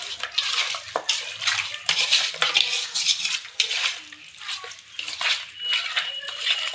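Raw chicken pieces are mixed by hand with salt and turmeric powder in a Karnataka-style kitchen, giving wet squelching and slapping sounds in irregular bursts, close up, with occasional light clinks of a vessel.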